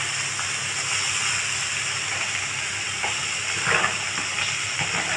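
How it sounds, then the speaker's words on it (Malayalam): Dried red chillies and chopped onion sizzling in hot oil for a Kerala tamarind curry, a continuous loud hissing fry with a brief burst of crackle partway through, no voices. "ഉണക്കമുളക് ഇട്ട് ഒന്ന് ചൂടായി കഴിയുമ്പോൾ ഒന്ന് നിറം മാറിയപ്പോൾ നമ്മൾ അരിഞ്ഞു വെച്ചിരിക്കുന്ന ഉള്ളി അങ്ങോട്ട് ഇടുകയാണ്"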